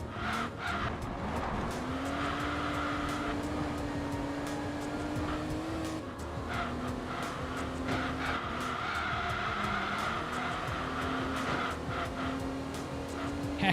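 Racing car in the video game Enthusia Professional Racing, its engine note rising and falling through gear changes with tire squeal and skidding as the oversteering car slides, steady and close with no talk.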